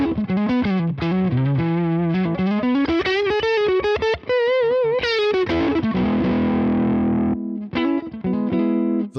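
An electric guitar plays through a Tone King Imperial amp alone with a gritty, overdriven tone, mixing bent single-note lead lines and sustained chords. It is loud and close, with short pauses between phrases and no speech.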